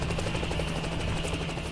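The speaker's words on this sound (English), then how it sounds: "She can hear the beating of chopper blades outside the building." Helicopter rotor blades beat steadily outside a building in the Girls' Frontline game, a continuous droning thrum with a rhythmic chop, moderately loud and unbroken throughout.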